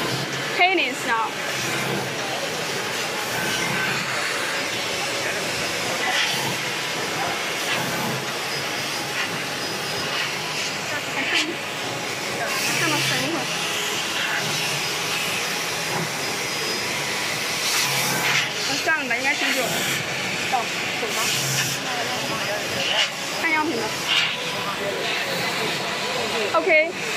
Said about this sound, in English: that's all about our 3 tracks laser tube cutting machines